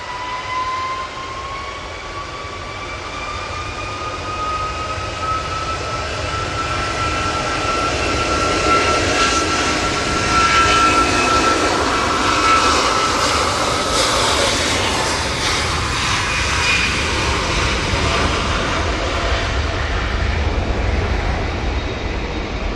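Jet airliner operated by TUI at Manchester Airport during a storm, a steady loud turbine roar with a rising whine, sustained and fairly near with wind noise, no talking.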